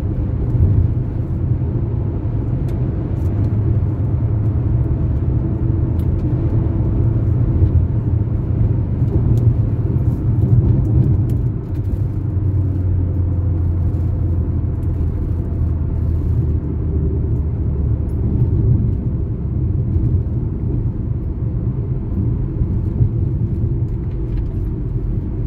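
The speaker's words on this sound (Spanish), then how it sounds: "Este es un camión de agua de Patagones que lo envía a la municipalidad para reabastecer a los camiones de bomberos" A municipal water truck from Patagones rolls past during a fire near Viedma, its engine a heavy continuous low rumble that holds steady and fairly near, with no talk.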